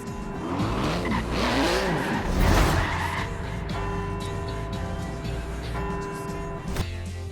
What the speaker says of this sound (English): Hard on those carbon ceramic brakes now.